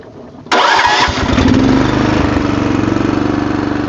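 A stump grinder engine fed on wood gas catches and starts abruptly, then settles into a loud, steady, close-up running chug with no talk over it.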